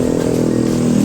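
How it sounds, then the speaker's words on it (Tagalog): A Honda Click V2 motorcycle engine hums loud and close in a short, steady burst, a smooth droning tone with a slight buzzy edge. "Honda Click V2."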